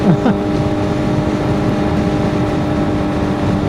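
A Suzuki GSXR750 motorcycle being ridden on a road, its engine a steady droning hum with a short rising rev at the start, continuous and fairly close, no talk.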